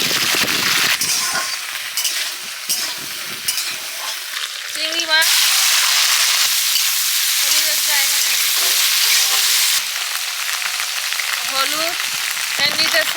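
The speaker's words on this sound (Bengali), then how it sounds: "সরষের তেল দিয়ে দিচ্ছি প্রথমে চিংড়ি মাছটা ভেজে নেব" Shrimp frying in mustard oil in a pan, a steady loud sizzle throughout with occasional clinks of a spatula stirring, no talking.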